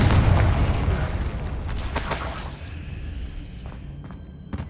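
Confringo spell blasts exploding in Hogwarts Legacy, deep booming bursts at the start that roll off into rumbling debris and scattered pops, fading over a few seconds.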